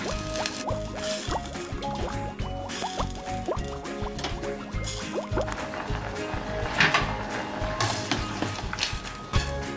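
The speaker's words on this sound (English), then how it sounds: "So now we're gonna boil the potatoes." Potatoes boiling in a pot of water, with continuous bubbling, gurgling and dripping plus scattered clinks of a utensil, steady and close, with no one talking.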